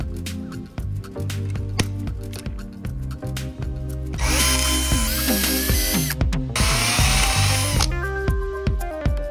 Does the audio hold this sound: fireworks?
no